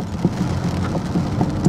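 Rain patters on a car during a thunderstorm in Helsinki, a steady wash of drops heard from inside with faint low rumbles underneath, and nobody speaking.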